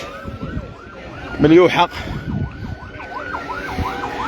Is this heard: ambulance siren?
yes